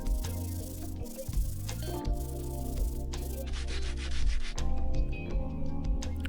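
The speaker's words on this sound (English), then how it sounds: "I went over the block with some 80 grit sandpaper" A block of pallet wood is sanded by hand with 80 grit sandpaper, giving a steady, close, continuous rasping rub with small changes in stroke and no talking.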